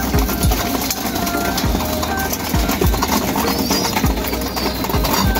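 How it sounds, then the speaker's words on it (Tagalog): About twenty racing pigeons in a loft, with soft low coos and rustling over a steady background hum, faint repeated thumps and flutters scattered through. "mga ibon, nandito na silang lahat sa loft"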